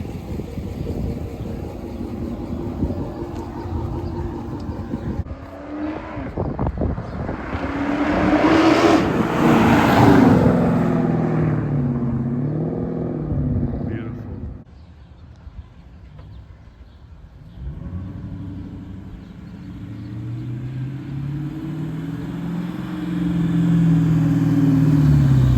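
A Chrysler 300 SRT 6.4 on a test drive after an engine swap, its V8 rising through loud accelerating revs, easing off and settling into a lower rumble before building again, heard up close from inside with no talk.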